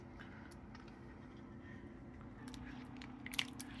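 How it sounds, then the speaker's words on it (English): Thick lasagna sauce spread around a baking dish, giving a steady wet squishing and smearing texture, with a few sharper squelches near the end. "Listen to that sauce."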